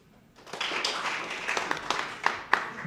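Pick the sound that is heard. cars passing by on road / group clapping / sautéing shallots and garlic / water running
group clapping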